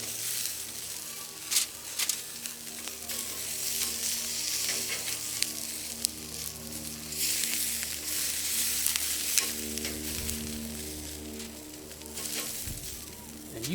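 Food fries in a pat of butter on a tray, a steady close sizzle and crackle running throughout with occasional stirring clicks and no talk over it.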